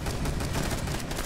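A gunshot rings out in the PC video game Rainbow Six Siege, a loud, dense burst of gunfire lasting little more than a second.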